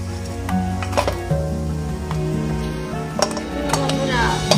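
Coriander and red lentil fritters lifted one by one from a frying pan, metal utensil clinks and scrapes over soft sizzling oil, close and fairly busy, with a voice speaking briefly.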